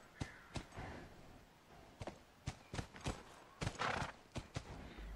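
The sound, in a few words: horse whinnying in The Last of Us video game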